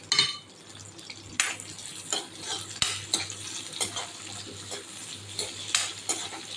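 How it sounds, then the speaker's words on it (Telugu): Chopped onions and green chillies frying in a pan with a soft steady sizzle, broken by repeated scrapes and clinks of a spoon stirring against the metal. "పచ్చిమిర్చి తరుగు వేసుకొని వేపుకోవాలి."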